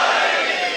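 A Muharram gathering at an imambargah in Karachi chants the Naara-e-Haidari together, a brief loud roar of massed voices sounding as one sustained shout.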